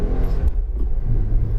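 Engine of a turbocharged factory car idling and rumbling up close, a steady low drone with faint higher whine from the turbo spooling, brief dip midway.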